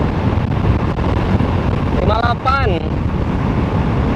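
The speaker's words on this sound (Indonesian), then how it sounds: "Anginnya cukup kencang ya guys." Strong wind buffeting the microphone while riding a Smoot De Sultan scooter at speed, a steady loud rush throughout with a short spoken phrase partway.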